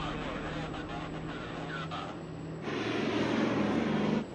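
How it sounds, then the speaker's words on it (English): Airliner engines spooling up to takeoff power on a runway, a steady roar with a low hum that grows noticeably louder partway through, heard from inside the aircraft. "Cleared for takeoff. Set takeoff power, please."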